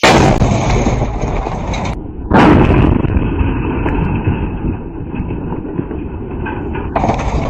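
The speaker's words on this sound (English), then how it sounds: "after this absolutely wild explosion, which was captured by the helmet-mounted GoPro of our soldier" Drone strike explosion caught by a soldier's helmet-mounted camera: a loud, roaring broadband blast that rumbles on for seconds with a second surge partway through, harsh and close, no voices.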